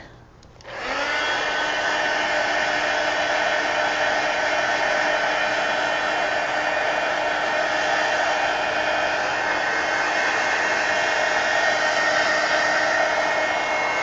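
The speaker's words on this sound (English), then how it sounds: "Now let me go ahead and hit this heat gun." A heat gun switches on and runs with a loud, steady blowing whoosh and fan hum, drying watery paint on a coloring page, continuous and close for the whole stretch with no voices.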